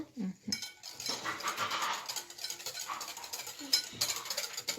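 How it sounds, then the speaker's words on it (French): A spoon stirs apple cake batter in a bowl at close range, a steady run of scraping and clinking against the bowl with short pauses, no talk over it. "On doit vraiment bien mélanger."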